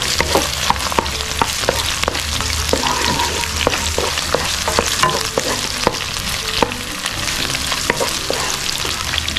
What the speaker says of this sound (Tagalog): start na tayo manggisa. Una, sibuyas muna. Sunod na natin ang luya mga kasolid.